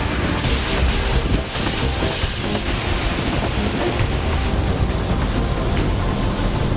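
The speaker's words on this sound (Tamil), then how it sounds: "கனமழை கொட்டி தீர்த்தது" Heavy rain pours down in the UAE, a loud, dense, unbroken roar of water hitting surfaces, steady throughout with a wind-buffeted hiss close to the microphone.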